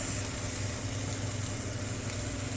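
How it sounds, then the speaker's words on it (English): Onions frying in a pan, a constant dense sizzle and crackle that holds steady throughout, close and fairly loud, with no talking. "we're gonna fry up some onions"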